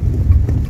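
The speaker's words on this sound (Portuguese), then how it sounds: "Chuva intensa, como eu já falei, aqui vocês estão percebendo" Heavy rain pours steadily during a storm that floods streets, a dense continuous roar with strong low rumble, close and loud, with no talk.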